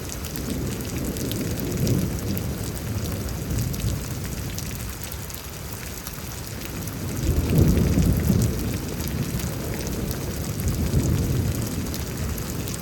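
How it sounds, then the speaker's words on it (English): Heavy rain pours steadily during a thunderstorm in Houston, Texas, with low rolls of thunder swelling around the middle and again near the end. "line of storms."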